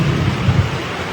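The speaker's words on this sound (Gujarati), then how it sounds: "આજ તો કડાકા ભડાકા સાથે વિડીયો" Heavy monsoon rain pouring down during a thunderstorm, with a deep rolling rumble of thunder underneath the dense, steady hiss of rainfall, loud and sustained throughout.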